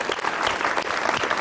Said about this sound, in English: Let's have a big round of applause for volunteers.